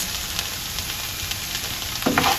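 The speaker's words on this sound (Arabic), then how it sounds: "من بعد ما كطيح ديك الفلفله حتى هي كتقلى كطيب" Steady sizzle of peppers frying in a pan, a continuous crackling hiss with a brief louder burst of spattering near the end.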